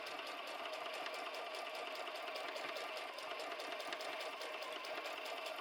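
A sewing machine stitches the bottom seam of a fabric bag, running as a steady, even mechanical whir with rapid needle ticking throughout, close and continuous with no talk.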